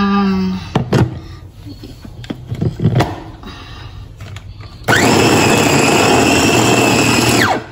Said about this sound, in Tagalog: At ilalagay po natin dito sa ating food processor.